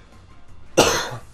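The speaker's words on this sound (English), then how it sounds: "I have to keep turning away to cough" A single sharp cough from a person playing Pokemon Scarlet, close and loud, bursting out after quiet room noise and trailing off over about half a second.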